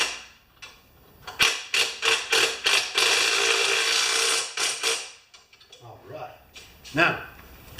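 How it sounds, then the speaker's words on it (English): Half-inch ratchet wrench clicking in quick bursts at close range during snowblower assembly, short rapid strokes separated by pauses, with a few softer clicks and tool handling near the end. "Now, half-inch ratchet or ratchet wrench."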